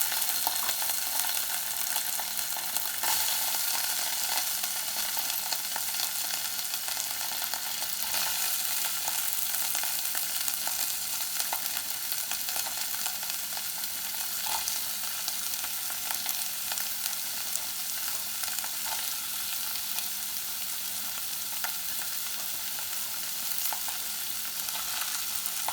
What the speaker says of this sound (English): Now keep stir frying the vegetables